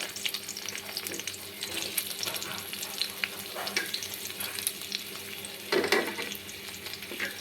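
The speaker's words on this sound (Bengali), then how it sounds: "এবার আমি দিয়ে দিব কুচি করে রাখা পেঁয়াজ," Chopped onion hitting hot oil in a kadai gives a steady, close, crackling sizzle that runs throughout, with a brief louder burst near the end.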